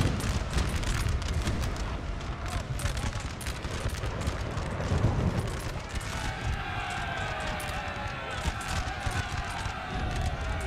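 Cannon and musket fire from a Napoleonic battle in Napoleon: Total War, a dense continuous rumble of booming shots and crackling volleys with battlefield din, loud throughout, with a voice speaking over it.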